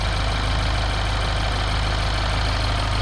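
A 2013 Mini Cooper JCW R58 with 140,000 miles, a new aluminum valve cover and the timing not yet done idles steadily and loudly up close, giving a smooth, even rumble with no voices.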